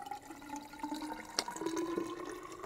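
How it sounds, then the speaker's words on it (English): Saturated silver acetate solution is poured into a graduated cylinder in a lab, a steady close liquid trickle with a rising tone as the vessel fills, marked by one sharp tap midway. "I'm going to pour that into a graduated cylinder so that we can see exactly what"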